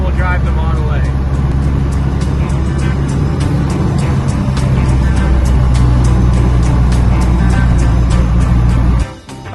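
A 1932 Ford car cruises along at steady speed, its engine and road noise a loud, constant drone heard from inside for most of the stretch before dropping off abruptly near the end; talk seems to run beneath it.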